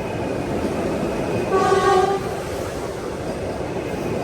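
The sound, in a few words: Vande Bharat Express train passing on adjacent track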